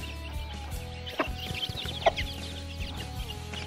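Desi country chickens cluck around a household, a scatter of short, close clucks and squawks at irregular intervals over a low background hum, with one sharper call standing out midway.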